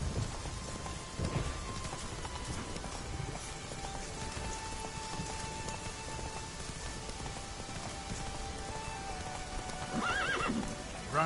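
Witcher 3 horse Roach, a video game horse, galloping through rain, with steady hoofbeats over constant rain patter and a whinny near the end, no talk.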